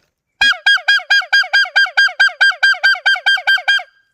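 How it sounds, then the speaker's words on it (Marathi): A pepeta noisemaker blown hard to scare off monkeys near a village mango orchard, a loud, close train of about fifteen evenly spaced nasal honking blasts with no talk. "माकडं खूप आहेत म्हणून पेपेटा वाजवून जरा दाखवतो."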